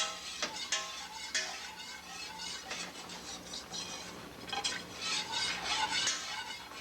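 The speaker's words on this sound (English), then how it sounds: "And keep stirring." A spoon scraping and clinking around a pot while a dark roux for gumbo is stirred, irregular close-up strokes with occasional metallic taps, fairly quiet.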